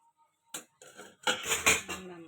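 A lid set onto a cooking pan while a snack cooks slowly on low heat, a few sharp close metallic clinks and clatters in quick succession, starting after a short quiet pause.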